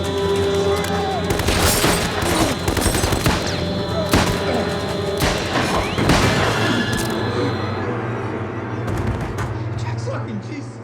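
Rapid bursts of automatic gunfire and heavy booms crack loudly in a WWII horror film scene, dense and chaotic for several seconds before thinning out, with shouting voices mixed in.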